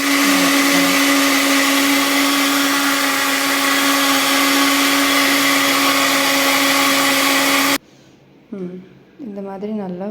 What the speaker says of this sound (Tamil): இந்த மாதிரி நல்லா ஃபைன் பேஸ்ட்டாக தக்காளி அரைச்சிக்கோங்க